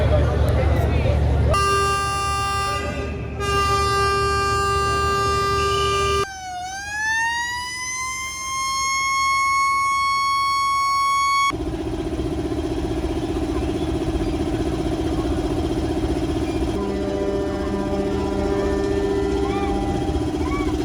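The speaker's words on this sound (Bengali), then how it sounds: "এখন আমি আপনাদের দেখাবো কিভাবে লঞ্চ ছাড়া হয়" A passenger river launch in Barisal sounds its horn on departure: several long, loud blasts at shifting pitches, one bending upward, layered over a constant engine drone, with voices around.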